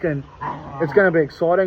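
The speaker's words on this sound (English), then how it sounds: "Don't mind that noise, guys. That's just my dog making noises." A dog whimpers and gives yipping barks close by in a room, several high whiny cries and short barks mixed with someone talking over them.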